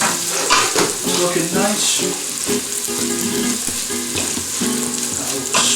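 Sweet peppers stirred into chilli con carne frying in a pan, a loud close sizzle with rhythmic stirring scrapes and spoon knocks, while someone speaks briefly.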